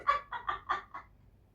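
A chicken clucks in five quick, evenly spaced bursts, fairly close and clear, fading out at the end with no talk over it.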